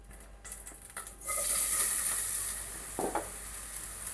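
Grated carrot for halwa fries over a low flame, a few stirring scrapes giving way to a steady, close hiss of sizzling that holds to the end with one more scrape, no talk.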